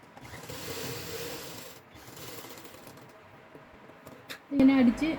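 A sewing machine stitches lining onto the square neck of a nighty, a soft steady mechanical whir running in short stretches, close by, with a brief louder burst near the end.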